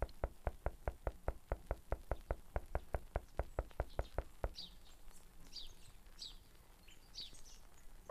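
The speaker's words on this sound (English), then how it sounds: "Why do I hear birds now?" Birds chirp in a haunted PS1 video game level: after a run of steady knocking taps, several short high chirps and tweets come and go at moderate distance over a quiet background.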